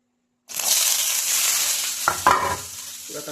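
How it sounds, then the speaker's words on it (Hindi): Onions drop into hot mustard oil with a sudden loud sizzle that starts after a brief silence and holds steady, broken by a few stirring scrapes near the end. "तेल पूरा गरम हो गला पियाज पकईदबा"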